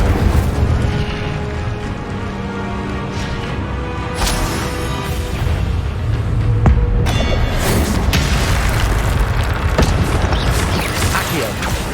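Fire-spell combat in Hogwarts Legacy, with loud, continuous booming blasts and crackling magical bursts layered over dense game effects and rumble, sharp crashes standing out near the middle and end.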